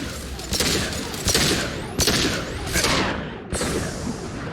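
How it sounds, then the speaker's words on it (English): Heavy weapon fire in the sci-fi shooter Mass Effect 2: a series of loud, booming high-impact shots spaced roughly a second apart, each a sharp blast with a ringing tail, over a constant dense battle rumble. "Firing a high impact shot."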